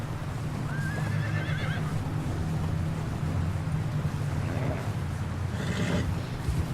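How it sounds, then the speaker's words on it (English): Horse from Red Dead Redemption 2 whinnies with a rising call early on, over steady clip-clop of hooves on a snowy trail near a bridge, with a second fainter whinny toward the end and continuous low rumbling ambience. "R1, slow the horse down."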